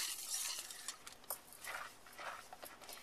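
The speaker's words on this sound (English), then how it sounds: "And we're just going to stir this continuously until it's thickened." Continuous stirring of a milk white sauce thickening in a pan, with soft scraping and swishing strokes close by, uneven in rhythm and fairly quiet, with no talking.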